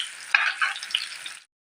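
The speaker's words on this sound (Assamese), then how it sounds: "পিঁয়াজখিনি ৰঙচুৱা হোৱালৈকে অলপমান ভাজি ল'ম।" Chopped onions fry in hot oil with panch phoron in a home kitchen, giving a close, steady crackling sizzle with a stir or two for about a second and a half before the sound cuts off.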